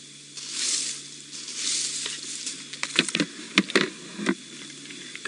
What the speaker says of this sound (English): Those leaves? That's Thandi. She's scraping them over the stomach content, and that's just to hide the scent.